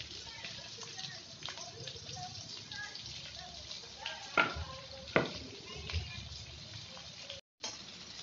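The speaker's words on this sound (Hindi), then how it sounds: "ऑयल गर्म हो चुका है, सबसे पहले हमने अनियन डाल देने हैं।" Chopped onions frying in hot cooking oil in a pan for Hakka noodles, a steady soft sizzle with occasional stirring clatters and scrapes, close and fairly quiet, with a voice talking in the background.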